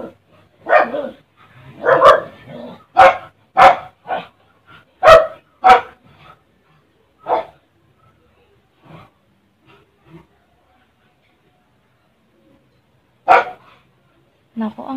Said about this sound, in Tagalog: Nako, ang iingay ng mga aso namin.